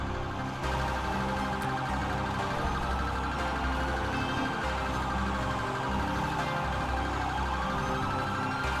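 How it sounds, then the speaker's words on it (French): A police siren wails continuously over rumbling engine noise in a police-patrol video game, steady and fairly loud throughout. "Elle est horrible cette sirène."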